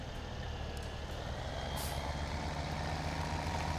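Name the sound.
pickup truck driving through gate in Farming Simulator 17 video game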